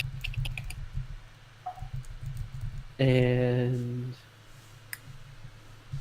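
A voice imitating a creature's clicking, a quick run of dry clicks followed by a sustained raspy vocal screech, with light tapping and brief talk around it.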